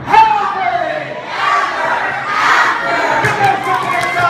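An outdoor audience at a medieval faire shouts and cheers loudly for a few seconds, with a voice calling out from within the crowd.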